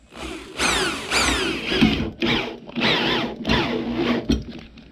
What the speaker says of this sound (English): let's drill our first hole here